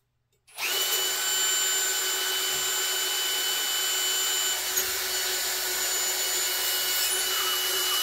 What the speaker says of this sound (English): I actually need to transfer to another drill bit that I have.